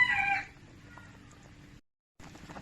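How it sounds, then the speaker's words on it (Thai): A rooster crows briefly and fairly loudly at the start, then fades into a steady outdoor background with wind noise and a short silent gap, heard while a Thai home-style chicken soup is being cooked. "เสียงไก่แหละพี่น้อง"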